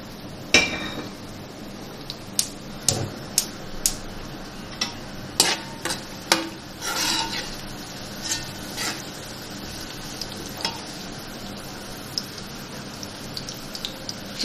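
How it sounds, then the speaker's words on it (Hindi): Whole garam masala spices tossed into a hot pan for chicken pulao crackle and tick, with sharp scattered pops and utensil clinks over a faint steady sizzle. "अब ये मैं साबुत गरम मसाला डाल रही हूँ।"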